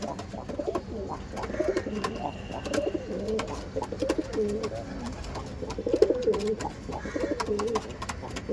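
Madrasi pigeons coo in repeated soft, throaty bursts close by, the rolling calls coming in short phrases over a low background with scattered clicks and faint voices.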